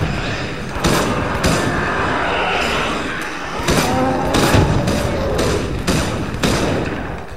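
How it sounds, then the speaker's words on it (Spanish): Booming explosions with heavy thuds and crackling debris go off repeatedly in a Resident Evil: Operation Raccoon City heroes-mode match, loud and dense over about seven seconds with several sharp blasts layered over a continuous battle rumble. "Explosión inminente."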